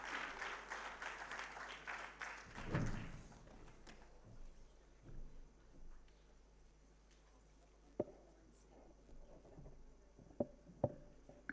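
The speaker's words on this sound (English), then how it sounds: "let's welcome Professor Chakravarti on the dais with a thundering applause" Applause at an international higher-education conference welcomes a professor to the dais, a brief burst of clapping at the start that fades within a few seconds, leaving a quiet room with scattered thumps and small noises.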